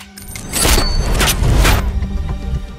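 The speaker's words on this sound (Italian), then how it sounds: "Mira e premi il grilletto." Pistol gunfire in the Tenet film trailer: a few loud, booming shots with sharp broadband cracks land over a dense, driving score, spaced less than a second apart.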